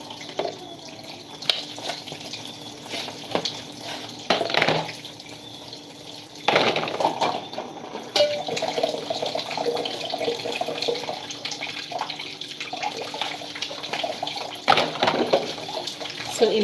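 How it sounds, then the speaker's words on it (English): Dishes being washed under a running kitchen tap, with steady water flow punctuated by clinks and splashes as plates are handled, close and continuous throughout. "now let's wash the dishes because these dishes are too many."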